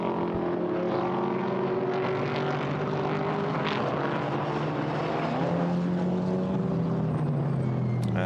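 A McLaren GT4 race car at Paul Ricard in a GT4 European Series race, a loud, steady engine roar that shifts in pitch as it passes by, with no gaps.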